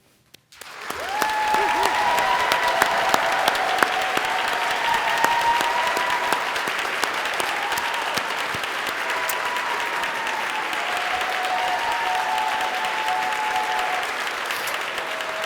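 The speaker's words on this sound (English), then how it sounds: "one more round of applause for the 2021 Central Lakes graduates" Sustained crowd applause for graduates at a college commencement ceremony, starting abruptly after a brief silence and holding as a loud, dense clapping wash for about fourteen seconds, with faint voices mixed in.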